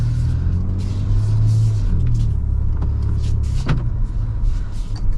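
A 2024 Ford Ranger Raptor pickup driving through rush-hour traffic, with a steady low engine and road rumble filling the cabin continuously and a brief louder swell partway through.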